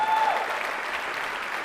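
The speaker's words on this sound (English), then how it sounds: "Yeah, you can clap." Audience applause fills a talk on medical marijuana and pediatric epilepsy: a dense, steady wash of many hands clapping at even loudness, with no voices over it.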